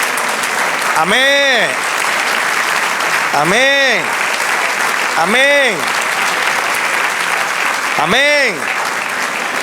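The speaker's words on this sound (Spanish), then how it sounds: "Dale aplauso al Señor." A church congregation gives sustained applause to the Lord during a sermon, steady and full throughout, while a voice repeatedly calls out over it.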